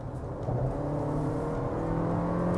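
Changan CS35PLUS with a 1.5T engine accelerating on an ordinary road from around 60 km/h, giving a steady, rising engine drone and whir heard from inside the cabin, continuous and fairly loud with no talk.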